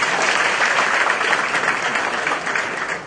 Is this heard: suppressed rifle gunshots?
no